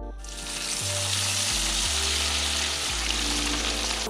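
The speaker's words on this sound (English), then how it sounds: "You can remove the fries from the oil once they reach your desired browning." French fries bubbling and sizzling steadily in hot oil for moules frites, a loud, close, continuous fry with a low hum underneath.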